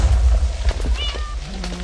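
A short, thin Minecraft cat meow rises briefly over a low rumbling background, faint and close, followed by a dull low tone.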